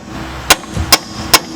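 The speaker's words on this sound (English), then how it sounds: "So we're just going to pop them out with a hammer." A hammer strikes bolts to drive them out of ball joint holes on a car's upper control arm, three sharp metallic blows spaced evenly about half a second apart, close and loud, no talking.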